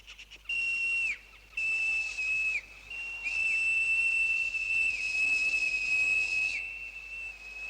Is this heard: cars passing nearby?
no